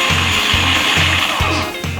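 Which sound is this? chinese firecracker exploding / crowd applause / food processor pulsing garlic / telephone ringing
food processor pulsing garlic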